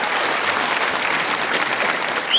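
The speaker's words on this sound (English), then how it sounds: "we're going to really give a huge round of applause right now for Bridget Nielsen coming out on the stage" A conference audience at Dimensions of Disclosure 2018 bursts into loud, sustained applause as Bridget Nielsen comes on stage, a dense wash of clapping with no break.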